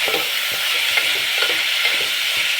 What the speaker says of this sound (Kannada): ಈರುಳ್ಳಿ ಹಾಕೋಣ. ಒಂದು 10 ಸೆಕೆಂಡ್ ಫ್ರೈ ಆಗಬೇಕು.